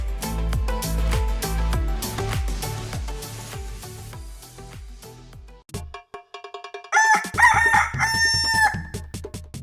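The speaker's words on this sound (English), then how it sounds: "Kienyeji chicken are highly resistant." Kienyeji chickens crowing and clucking under a thick layer of music, with a rhythmic beat dominating and a burst of bird calls rising toward the end.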